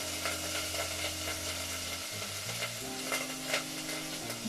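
Wooden spoon stirring onion in a hot pan, a continuous close sizzle with scraping strokes and faint knocks, steady and fairly loud, with tonal music-like hum underneath and no talking.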